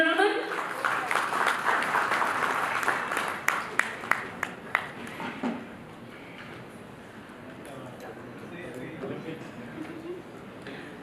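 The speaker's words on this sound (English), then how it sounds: "Mr. P.L. Sahu, a huge round of applause, ladies and gentlemen" A crowd applauds at a pharma award ceremony, claps thick and continuous at first with several sharp nearby claps, then thinning into a quieter scattered patter while a voice speaks over it.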